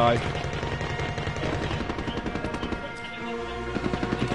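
Rapid automatic gunfire from a Call of Duty Warzone firefight, loud and near, in dense bursts with repeated rattling volleys and a brief lull near the end before more shots.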